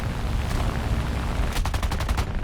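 Rapid machine gun and cannon bursts in a War Thunder air battle with a Ki-61-Ib fighter attacking a Ju-88, a quick string of sharp shots near the end over a steady engine drone.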